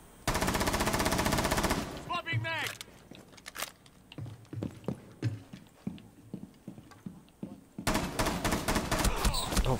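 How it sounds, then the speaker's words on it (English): Gunfire in Rainbow Six Siege, shots fired through a wall: dense rapid automatic bursts at the start and end, with scattered sharp shots and clatter between. "she is trying to shoot me through the wall"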